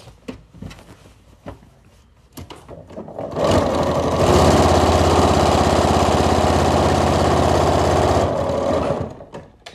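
A sewing machine stitches an inside pocket onto a garment, running steadily and loudly for about five seconds after a few scattered handling clicks and taps.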